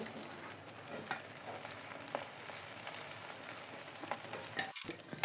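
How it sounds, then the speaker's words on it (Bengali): Prawns fry in plentiful hot oil as they are lifted out of the pan, a soft, steady sizzle with scattered sharp pops and light utensil clicks, quiet and close. "আমি মাছগুলো ফ্রাই করে নিয়েছি, আর মাছগুলো তুলে নিব।"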